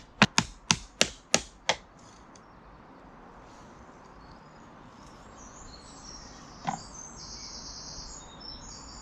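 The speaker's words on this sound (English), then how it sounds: "I'm just going to hit it with this hammer until I can see the juices starting to come out" A hammer pounds a folded fabric sandwich of plants laid on a board, six sharp evenly spaced blows up front, then one lone strike later, with faint birdsong in the background.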